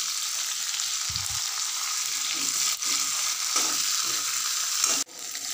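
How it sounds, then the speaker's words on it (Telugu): Green chillies and curry leaves fry in oil in a pan with a steady, bright sizzle throughout. A few soft stirring scrapes and a dull knock sound near the end. "ఇలా పచ్చి కరివేపాకు వేసిన వెంటనే ఒక నిమిషం పాటు ఫ్రై చేసుకొని"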